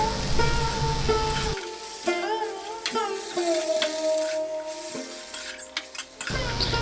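Bottle gourd leaves and mixed vegetables stir-fry in oil in a pan, with a steady sizzle broken by scraping and clinks of a utensil against the metal. Tonal background sound runs underneath.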